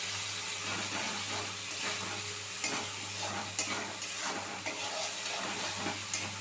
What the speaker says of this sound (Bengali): সমস্ত জিনিস খুব ভালো করে আমি মিশিয়ে নিলাম